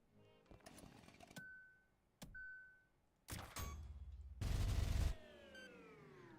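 Weapons fire in the video game Ultrakill, including the machine gun, heard as separate sharp shots and clanks with ringing tails, then a loud sustained burst near the end.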